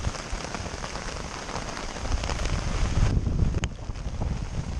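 Light rain trickles and patters onto a camping tent in a steady, close, broadband hiss that swells slightly midway, with a brief sharp tick near the end and no voices.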